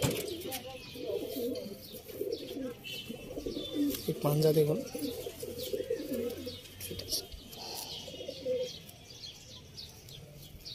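A pigeon coos close by in low, rolling phrases that run steadily underneath a voice speaking at intervals.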